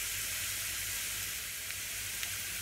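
Garlic and chili flakes frying in a pan over a gas flame turned down to a simmer give off a steady, close, even sizzle and hiss throughout, with no talking.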